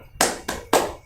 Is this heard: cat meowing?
no